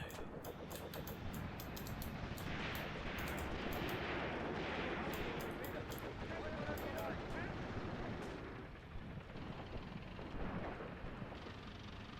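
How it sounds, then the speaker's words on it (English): In the WWII tactics game Graviteam Tactics on the Luga Line at Peleshi, indirect artillery fire booms and rumbles steadily in a loud, sustained barrage, with crackling impacts and a voice talking over it. "Looked like you were actually taking fire there. indirect fire, I mean."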